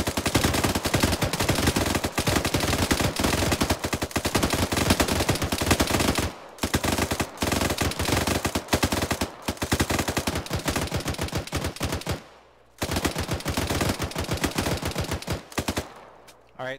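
Sustained bursts of M240 machine gun fire in a video game, rapid and loud, broken by a few short pauses between volleys.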